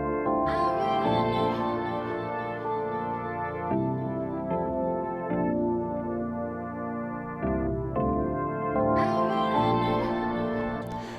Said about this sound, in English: And then I just added this chorus and phaser.